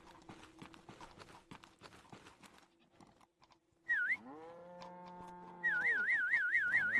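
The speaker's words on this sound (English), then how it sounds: "I'll take the horse home anyways. I'll just whistle for it until it stays there." Whistling calls a horse in the Old Market Simulator game, a short warbling whistle followed by a long held note and then a rapid trilling whistle, with clip-clopping hooves approaching earlier under faint ambient farm noise.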